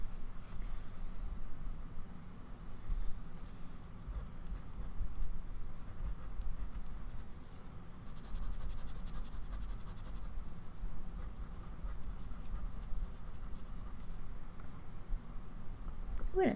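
A fountain pen nib scratches softly and continuously across paper as it lays down ink, close up and quiet, with small irregular strokes.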